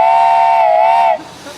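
A single steady whistle tone sounds clearly for about a second, airy and breathy, then stops, leaving faint background noise.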